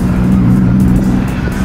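Car engines idle and rumble at a nighttime car meet in Japan with sports and classic cars, including a Nissan Silvia S15, a loud continuous drone close by with no talk over it.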